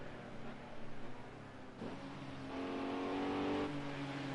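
A BMW GT3 race car at Le Mans drones steadily at moderate distance, its engine note dipping at a gear change and then climbing again as it overtakes, heard alone without talk.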